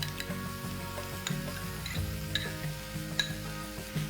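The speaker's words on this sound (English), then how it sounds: "let's saute this mixture" Tomato and beaten yogurt curry mixture sautéing in oil over a low flame, a soft continuous sizzle with occasional light clinks of a spoon against the pot, close and quiet.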